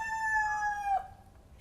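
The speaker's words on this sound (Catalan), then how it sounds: "M'encanta el moment de la rèplica del gall" A rooster crows in reply on a farm, one long clear cock-a-doodle-doo held and then dropping at the end, fairly close and standing alone, followed by a brief rustle.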